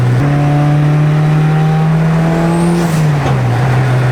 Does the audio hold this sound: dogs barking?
no